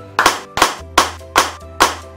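Children clap five times in an even, lively rhythm during a Filipino kids' ministry lesson, each clap sharp, near and loud, with a faint low hum behind.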